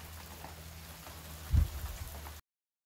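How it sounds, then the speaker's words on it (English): Heavy rain pours steadily in South Africa after days of downpour, a dense even hiss with one brief louder thump partway through before the sound cuts off. "It's been pouring for 3 days straight now"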